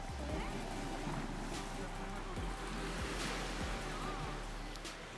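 Surf washing onto the beach at Rovinj, Croatia, a steady broadband rush of waves with a low rumble beneath, continuous and fairly close, with faint voices in the background.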